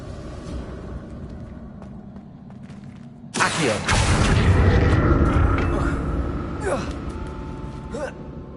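A Confringo explosion spell cast in Hogwarts Legacy bursts with a sudden loud blast partway through, followed by several seconds of heavy rumbling debris over an earlier low game ambience.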